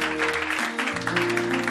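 Members of a church congregation clap together in worship, a continuous, loud bed of applause with voices and sustained music or singing underneath.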